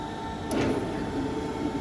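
A kantarlı (weighing) animal trap unit's door slides fully open with a short mechanical rattle and scrape, fairly close, over a steady background hum.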